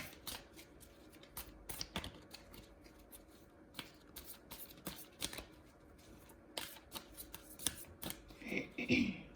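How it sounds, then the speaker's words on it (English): Cards are shuffled by hand in quick bursts of riffling and snapping, close and crisp, with short pauses between. "I'm just going to shuffle a little bit more."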